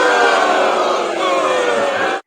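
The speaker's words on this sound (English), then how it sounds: "You got the crowd in the background." A studio crowd reacts loudly to a wrong answer about a nut butter, giving a dense, sustained roar of voices and groans that runs for about two seconds and then stops abruptly.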